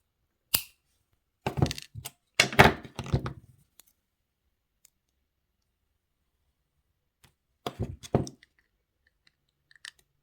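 Jewelry wire being snipped with cutters while making wire-wrap earrings: a few sharp, close clicks and small crunchy snaps in two short bursts separated by quiet.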